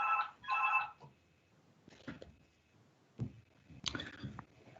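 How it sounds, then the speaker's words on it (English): A telephone rings during a council committee meeting, two short bursts of electronic ringing at the start followed by faint clicks and handling noises as the receiver is taken off the hook. "that's phone ringing"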